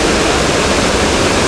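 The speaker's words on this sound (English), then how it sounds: "Just a magnificent waterfall." Steady, loud roar of High Falls, a waterfall in North Carolina, heard close up as continuous broadband rushing water with no other sounds.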